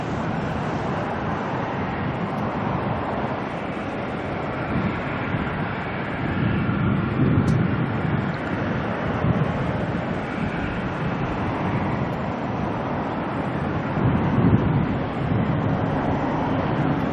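Airplane passing at Auckland Airport, a broad steady jet engine roar lasting throughout with gentle swells in loudness, heard from a plane-spotting position without talk.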